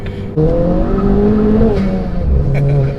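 A 310 bhp Ford Fiesta ST engine pulls hard while driving, its tone rising as the car accelerates through the gears, loud and close, with a brief squeal-like edge near the end.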